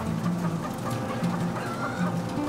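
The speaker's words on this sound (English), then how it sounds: "There's a distinct sound your chickens make when they're happy." Chickens clucking softly and continuously, a low murmuring chorus of calm, contented egg-farm hens in a barn, with scattered calls, steady throughout and nearby.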